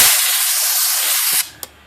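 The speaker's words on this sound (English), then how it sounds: "blow this keyboard out just a little bit more" Compressed air blasts into the keyboard of a Hermes 3000 typewriter, one loud, close hissing burst lasting about a second and a half, then stopping abruptly with a faint click after.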